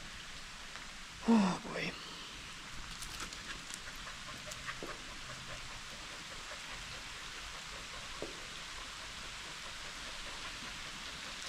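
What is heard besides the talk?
rain falling outdoors on a hike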